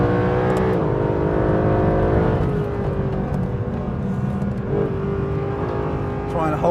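A Mercedes SLS AMG Black Series with 630 horsepower is driven hard on a track. Its engine roars loudly and continuously from inside the car, with the pitch rising and falling through gear changes and throttle shifts.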